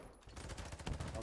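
Rapid automatic gunfire in the video game Call of Duty: Modern Warfare II during a ranked match, with a dense burst of quick shots, moderately loud and continuous over a short span.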